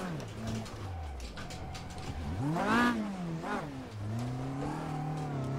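A race car in the sim racing game Automobilista spins out after late braking, its engine note wavering and sweeping up and down as the revs rise and fall, then settling into a steady drone.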